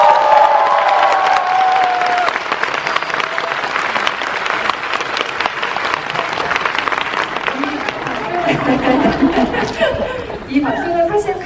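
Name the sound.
Korean audience applauding Parasite's Palme d'Or win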